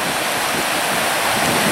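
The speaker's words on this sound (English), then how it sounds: "This is the valley that the Beaver Creek runs through to come down to the dam." Beaver Creek runs down a valley toward a concrete mill dam, giving a steady, loud, broadband rush of flowing water with no break and no voices.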